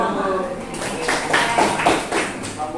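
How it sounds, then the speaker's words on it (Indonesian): A school class claps hands together in a short burst of applause while a teacher's voice talks over it. "Tepuk tangan."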